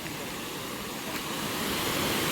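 Steady broadband rush of flowing water, loud and close, filling the whole clip with no voices.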